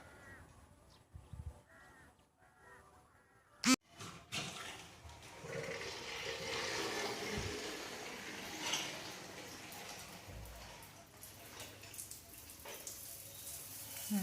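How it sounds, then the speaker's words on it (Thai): Water spraying from a shower head in a newly built garden bathroom: after a sharp clunk, a soft, steady hiss of running water fills the space, with faint bird caws before it starts. "ลองเปิดน้ำสายบัว ฝักบัวดูค่ะ"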